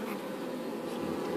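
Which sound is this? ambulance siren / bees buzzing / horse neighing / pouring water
bees buzzing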